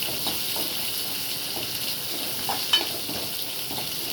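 Crushed garlic, about seven or eight cloves, and curry leaves sizzle steadily in hot oil for a potato fry, a continuous close crackling hiss with a few small pops and a brief clink near the end.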